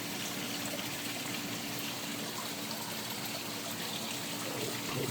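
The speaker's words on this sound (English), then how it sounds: "She's flowing around that corner really hard right now." Garden water rushes hard around a corner with steady bubbling and gurgling, a continuous broadband flow heard close and alone.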